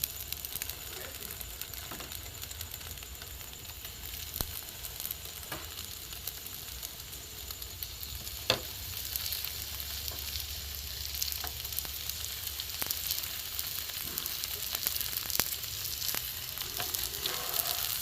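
A potato and egg paratha fries in a lightly oiled frying pan, giving a soft, even sizzle throughout with occasional faint clicks and taps.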